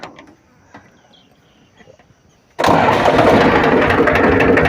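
A Powertrac tractor engine with a hydraulic pump problem cranks and roars to life abruptly after a quiet stretch, then runs loud and steady with a rough, chugging idle.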